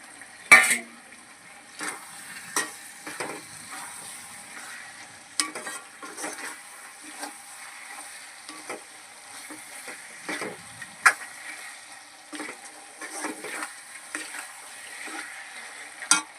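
Dried prawn and egg curry with fried eggs cooks in a pan, giving a quiet steady sizzle broken by repeated clinks and scrapes of a spoon stirring against the metal.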